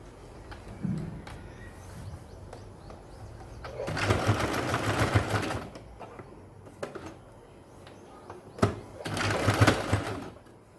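A sewing machine stitches piping onto fabric in two separate runs of fast, buzzing whir, each lasting a second or two, with quiet handling pauses in between.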